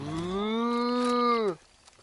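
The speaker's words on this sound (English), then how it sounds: "Oh, look at the cow!" A cow in the video game Far Cry 5 lets out a single drawn-out moo lasting about a second and a half, loud and close, then cuts off abruptly.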